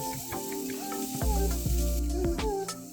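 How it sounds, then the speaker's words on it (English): Minced shallot sizzles in melted butter in a pan over medium-high heat, a soft steady hiss with occasional stirring knocks, close up, under tonal background music and without talk. "Melt 1 tablespoon of butter in same pan over medium-high heat. Add minced shallot and cook until softened"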